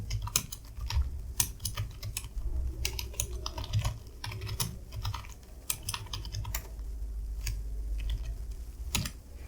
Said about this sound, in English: you can type your HTML code